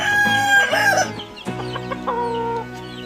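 Several chickens cluck and squawk loudly nearby, with overlapping calls and what sounds like a rooster crowing among the flock.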